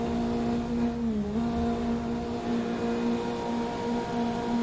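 Race cars in Assetto Corsa at a standing start at Sebring. Engines hum loudly and steadily with a brief pitch dip, then build up together, with no speech.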